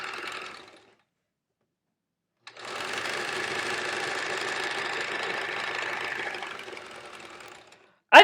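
Sewing machine free-motion quilting a quilt, a steady continuous mechanical whir that runs for several seconds after a brief burst and a pause, fairly close and loud.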